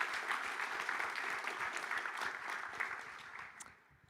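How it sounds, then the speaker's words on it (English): A conference audience at a main stage gives a round of applause for a panel, a full, even wash of clapping that thins and fades out near the end. "Give them a big round of applause,"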